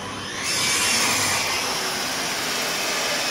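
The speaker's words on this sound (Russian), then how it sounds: "Вначале проходим сверлом, чтобы не лопнула у нас коробка с одной, с другой стороны." A drill bores through a wooden door frame while a glass door is refitted, a steady loud whirring grind that holds on without pause.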